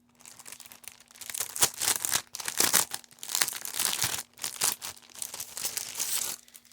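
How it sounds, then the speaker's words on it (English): Plastic packaging for craft cutting dies crinkles and crackles in repeated close bursts during an unboxing, with brief quiet gaps between handlings. "sorry for the crinkling"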